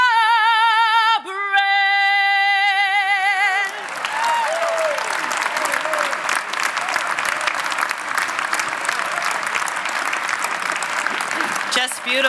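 The final sung note of the national anthem cuts off and crowd applause breaks out at a New Jersey General Assembly organization ceremony, a dense, steady clapping that carries on loudly for several seconds.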